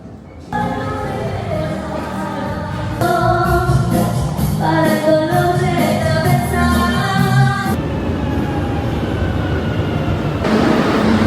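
Train sounds at a busy railway station in Barcelona on a very hot day, with a steady loud rumble, tonal hums and squeals, and some voices mixed in.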